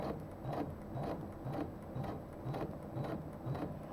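A quilting machine moves its hoop around the outline of a large quilt, giving a steady mechanical whir with regular clicking pulses about twice a second, all at moderate level.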